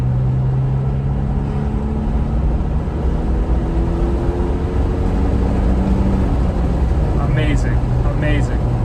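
An Audi A5 with a 2.0 TFSI turbo engine pulls forward under moderate throttle, a steady low engine drone rising gradually in pitch from inside the cabin, with a couple of brief higher chirps near the end.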